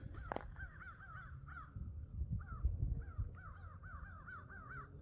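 Crows caw repeatedly outside a new house in a Desoto, Texas housing community, several rhythmic bursts of calls at moderate distance over low background rumble.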